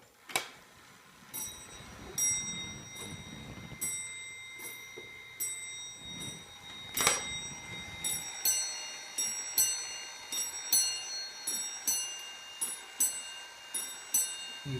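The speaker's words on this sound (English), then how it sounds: "You see the lower bell is moving with that hour strike." A rare Black Forest monk automaton clock strikes the hour on bells, a regular series of clear, ringing strokes with a lingering metallic decay, fairly quiet and unaccompanied by talk.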